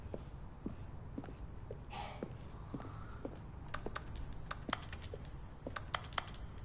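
Keyboard keys clatter in quick irregular bursts of typing inside a video game, crisp clicks alone over a faint background hum with no talk.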